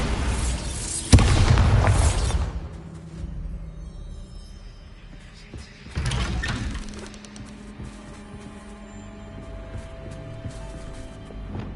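Magical blasting spell explodes in the Hogwarts Legacy video game on PS5, two heavy booming bursts about five seconds apart, each with a sharp crack and rumbling decay into a low ambient hum.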